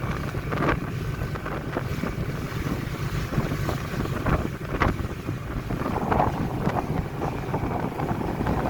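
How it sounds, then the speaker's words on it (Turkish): Strong wind buffets the microphone in a constant roar, with water and waves washing along the shore underneath. "O kadar e, rüzgar var."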